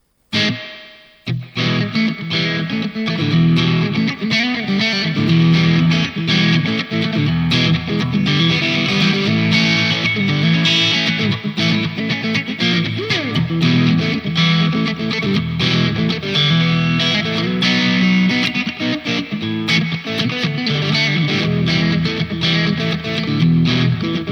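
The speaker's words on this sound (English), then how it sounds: "Spring reverb, nice." Continuous distorted guitar playing drenched in the Donner Arena 2000 spring reverb effect, dense and sustained throughout with a splashy, boingy ambience.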